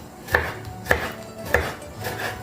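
Three evenly spaced knife strikes on a cutting board, close and crisp, as a jalapeño is finely chopped for penne arrabbiata, followed by a quieter trailing cut.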